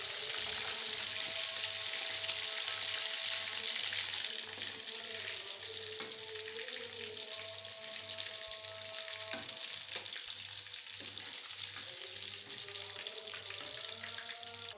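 Fish sizzling steadily in hot oil in a pan, a continuous bright frying hiss with small crackles and a faint rhythmic low hum underneath throughout.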